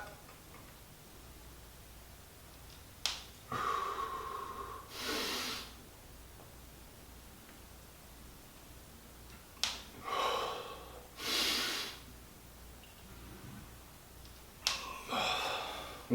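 Heavy breathing during barbell back squats: sharp inhales and forceful exhales come in three close clusters separated by quiet pauses, with no talking.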